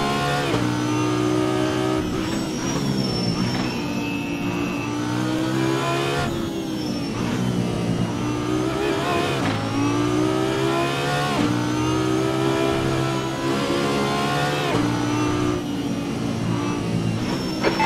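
An Audi R8 LMS GT3 race car in a video game, its engine revving hard and continuously, climbing through gears in repeated rising sweeps with brief drops at each shift.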